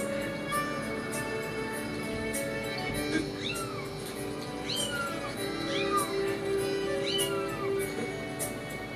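A cat meows repeatedly in the video game Legend of Zelda: Skyward Sword, several plaintive mews spaced a second or so apart over a busy game soundscape of music and ambience.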